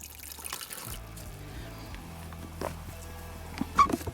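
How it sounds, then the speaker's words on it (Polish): Water trickles out through small holes drilled in a bucket used to press briquettes from sawdust, wood chips and paper, a faint, quiet running drain with a small knock near the end. "tak ładnie spływa woda"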